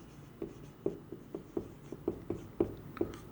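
A pen writes amounts on paper in short, quick scratching strokes with soft taps, close and quiet, with about ten distinct strokes in an uneven rhythm and no one talking.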